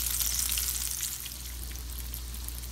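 Shrimp frying in hot oil give a steady, dense sizzle with crackling pops throughout, close and loud, with no talk over it.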